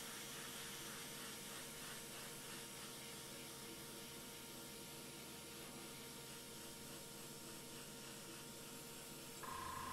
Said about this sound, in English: I'm just concentrating all my spray pattern towards the inside of the panel.